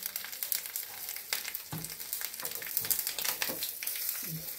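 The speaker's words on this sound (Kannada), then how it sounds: "ಸಾಸಿವೆ ಹಾಕಿದ ತಕ್ಷಣ ಚಟಪಟ ಅನ್ನತ್ತೆ" Mustard seeds crackling and popping in hot oil for a tempering of cumin, curry leaves and asafoetida, with sharp irregular pops over a steady sizzle, close and fairly loud, with no voices.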